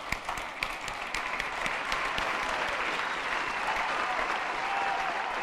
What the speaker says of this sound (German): Auch ein Applaus wert.